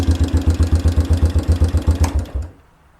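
An old, long-abandoned ATV engine idles close by with a steady rapid chugging pulse, then is cut off and the sound dies away to near silence in the final half second.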